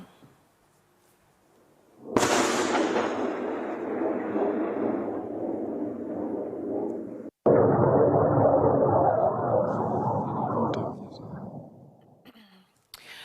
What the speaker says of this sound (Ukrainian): намагалися загарбники збити БПЛА за допомогою зенітного ракетного гарматного комплексу Панцер С 1